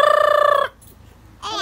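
A voice mimics a rooster crowing, one long wavering call that cuts off, followed by a short pause and the start of another vocal sound.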